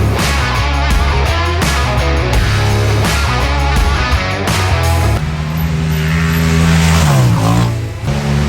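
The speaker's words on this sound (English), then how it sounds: "Fixing to go zoom around the track." A race car engine roars steadily at close range on a track, its pitch climbing and dropping as it revs hard and shifts through gears, loud throughout.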